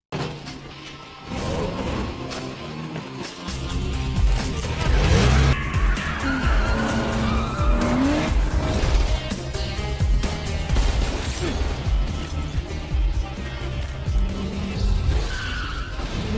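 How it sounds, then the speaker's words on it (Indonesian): A stolen car speeds and skids through a movie chase scene, tires squealing and engine roaring loudly and continuously for the whole stretch, with whooshing passes and no talk. "Smith melarikan diri bersama Oliver menggunakan mobil curian"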